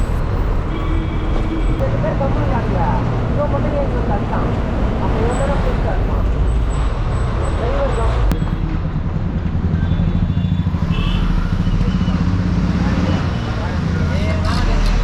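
A city bus rolls through Chennai traffic with a steady engine drone and road rumble from inside the cabin, and someone talks throughout over the noise.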